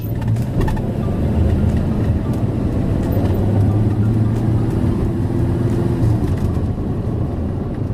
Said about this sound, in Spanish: cuando pisamos un poco el acelerador despliega todo su potencial con ímpetu, con carácter, con garra